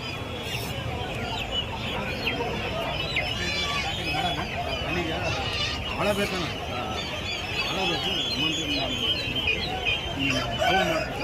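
Native country chickens cluck steadily while a rooster crows now and then, amid a busy poultry market clamor with people talking nearby.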